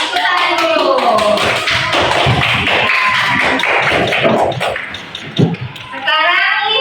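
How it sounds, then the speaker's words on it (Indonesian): A class of children claps hands together in a classroom, a dense rapid patter of many small hands. Children's voices and chatter mix through the applause, and it picks up again briefly near the end. "Oke, tepuk tangan dulu."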